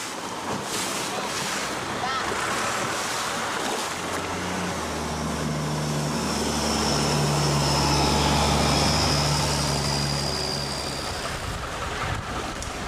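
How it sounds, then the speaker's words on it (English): A Thai long-tail speedboat with a powerful engine racing along a khlong in Bangkok, a loud droning motor rising in pitch and swelling as it passes near, over splashing water and wind noise. "These flat-bottom boats sometimes go through the khlongs at great speed."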